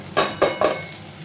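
A spoon stirs fried pumpkin and fried egg with coriander and green chilli in a pan, giving three quick, close scraping clatters against the metal followed by a softer trailing scrape.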